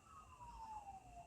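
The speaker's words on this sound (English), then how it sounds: "I'm going to pause this for a minute while the suburban sirens, are they coming closer?" A distant suburban emergency siren gives a single slowly falling wail that is faint and steady against a low background rumble.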